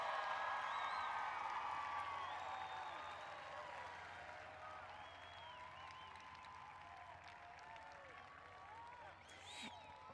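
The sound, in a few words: applause for the class of 2021 graduates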